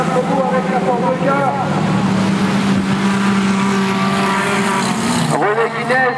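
Race cars pass on a racing circuit, a loud sustained engine roar with shifting pitch and gear changes as one car drives close by.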